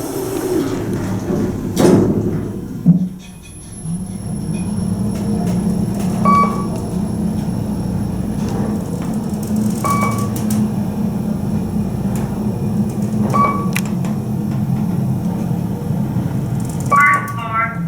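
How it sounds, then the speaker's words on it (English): A KONE traction elevator at a Dillard's store in Kansas City runs with a low steady hum and rumble after its doors slide shut with a thud, light chimes and faint beeps sounding during the ride. "Very nice Kone elevator. This thing runs flawlessly."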